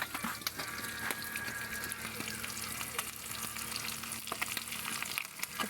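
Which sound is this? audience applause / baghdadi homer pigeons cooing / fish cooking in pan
fish cooking in pan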